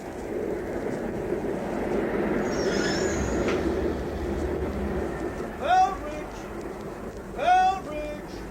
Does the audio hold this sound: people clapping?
no